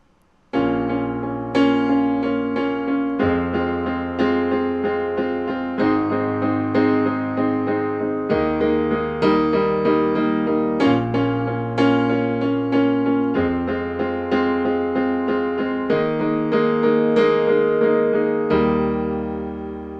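Piano chords from a song played one after another in a steady, even rhythm, each struck firmly and left to ring, with no voices.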